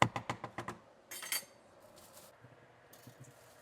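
A spoon scrapes and taps quickly against a pan while food is stirred, with a rapid run of sharp clinks followed by a brief rattling scrape, fairly faint and with no talking.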